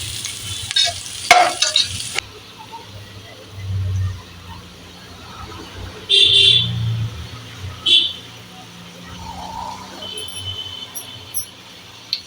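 Sliced onions fry in a pan for fried-piece chicken biryani, with a soft sizzle under intermittent spatula scrapes and clinks, and quiet background noise between the stirs.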